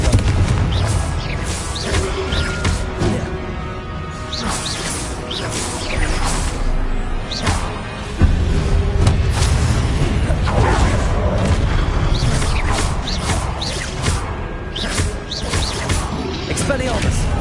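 Blasting-spell explosions in the wizarding video game Hogwarts Legacy: repeated booms and thuds land through a long, loud stretch of spell combat, with a voice heard throughout.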